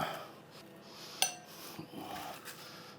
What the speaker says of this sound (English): Now put them into this glass bowl